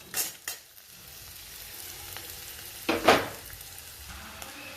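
Smashed potato with chilli spices is stirred in a hot pan, with a quiet, constant frying sizzle and a few scraping stir strokes near the start and one louder scrape in the middle.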